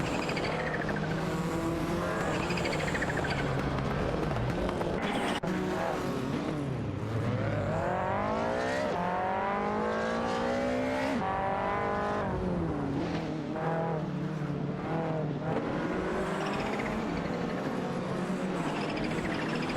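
Race cars in the Live for Speed video game roar past continuously, engines revving and sweeping up and down in pitch through gear changes, with several cars overlapping and tires squealing at times.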